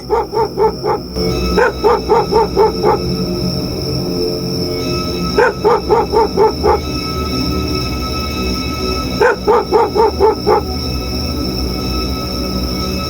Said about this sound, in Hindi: रास्ते में कुत्ते भौंक रहे थे